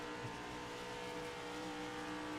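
Pace car engine pulling in first gear through a sharp left-hand turn in the iRacing sim, a steady close drone that holds evenly throughout with no voices.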